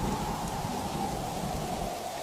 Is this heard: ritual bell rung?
no